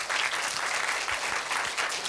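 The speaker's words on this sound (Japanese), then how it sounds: "大きな拍手でお迎えください。" Sustained applause from a large cinema audience greeting ballet dancers at a talk event, steady and loud throughout with no voices standing out.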